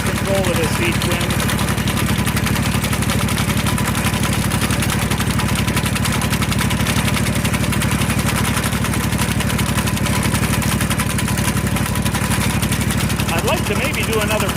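A John Deere 2210 compact tractor with a V-twin engine runs steadily with a Simplicity sickle mower, a loud continuous low throb with a fast rhythmic chatter throughout, close by and unbroken.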